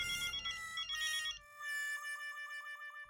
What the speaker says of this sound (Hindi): किसका फोन होगा इस वक्त?